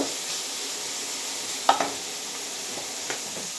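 Mushrooms and peas frying in a pan for matar mushroom sabji give off a steady, close sizzling hiss, broken by a few sharp clinks of stirring.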